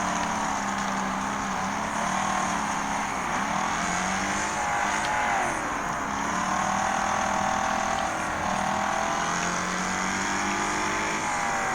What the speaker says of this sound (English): I'll ram my vehicle into the other vehicles.